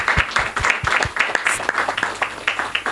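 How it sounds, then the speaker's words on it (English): Audience clapping at a startup event hosted at an innovation venue, a scattered cluster of claps from a modest crowd, fairly close and steady for a few seconds. "I think we can clap."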